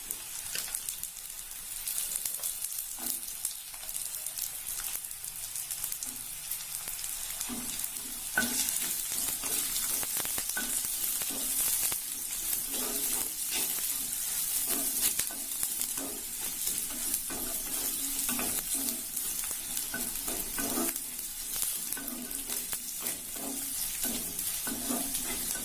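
Onions and green chillies sauté in a hot pan for a karuvadu kulambu with a steady, close oily sizzle, broken by occasional soft stirring scrapes, with no voices.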